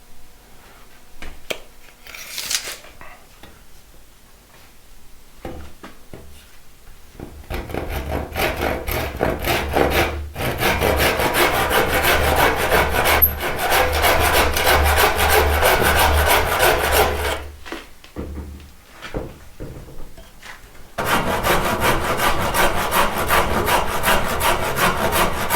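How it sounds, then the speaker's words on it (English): Blunt chisel paring and scraping a timber wall-framing batten, with steady rasping, rubbing strokes in long loud passages broken by short pauses, close up and with no talking. "Very blunt chisel, don't judge me."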